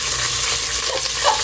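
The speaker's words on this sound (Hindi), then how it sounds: "अब हम डालेंगे कैबेज, जिससे कि कैबेज थोड़ा झड़ जाए।" Cabbage sizzles in a pan with garlic and ketchup, giving a constant, close, hissing fry with faint stirring throughout.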